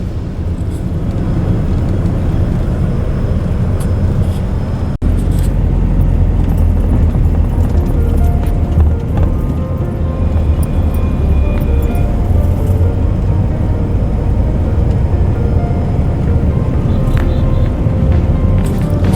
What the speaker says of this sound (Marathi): संध्याकाळची ट्रॅफिक सुरू झाली आता.